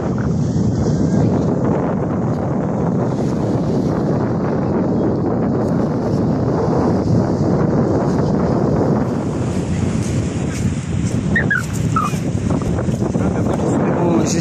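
Strong south-southwest sea wind buffets the microphone on a southern beach, a constant loud rumbling roar with surf beneath it and a few faint higher sounds near the end.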